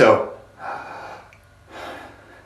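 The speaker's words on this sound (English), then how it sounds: "A lot of us do this kind of like vacuum cleaner breathing in." A person draws in sharp, deep breaths through the mouth, a hissing, vacuum-cleaner-like inhale repeated three times in close succession, loud and near, the first one strongest.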